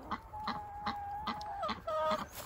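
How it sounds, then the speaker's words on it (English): Short repeated clucks from a chocolate Orpington rooster, several calls spaced through the clip, fairly close, with faint farmyard background. "There's the chocolate Orpington rooster."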